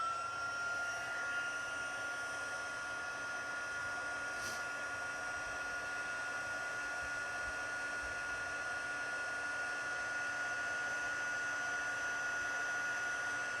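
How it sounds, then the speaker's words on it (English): Heat tool for card making running continuously in a steady, close whoosh like a hair dryer, with no talk. "Let's bring in the heat tool again."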